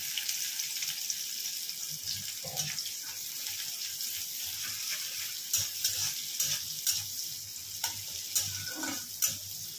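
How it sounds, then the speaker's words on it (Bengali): Chopped onion frying in a pan after tempering spices, a faint steady hiss broken by soft clinks and stirring scrapes toward the end. "এবার একটু কুচনো পেঁয়াজ দিয়ে দেবো।"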